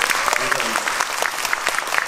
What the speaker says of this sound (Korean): 박수 한번 이렇게 쳐주셔도 좋습니다